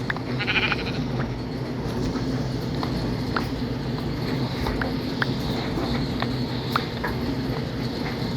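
Sheep bleat in the Minecraft video game over a steady, busy background of game sounds, giving several short bleats spread across the clip, with no speech.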